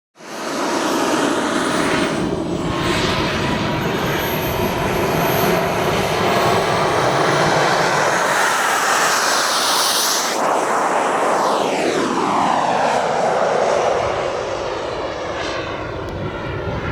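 An airplane passes close by near a runway, its engine roar swelling loud and steady, then sweeping downward in pitch as it moves away.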